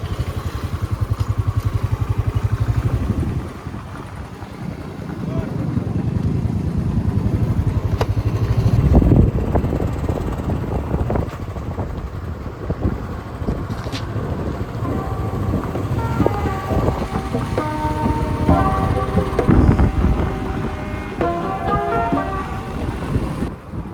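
A motorbike rides a road near Lavasa, its engine droning steadily up close with changing revs and wind rush, a brief horn toot partway through and no clear talk.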